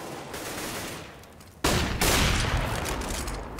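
Gunfire in Counter-Strike on de_cache, with an AWP sniper rifle taking a first kill at B site: one abrupt, loud report cuts in over steady game noise, then a dense crackle of shots continues to the end.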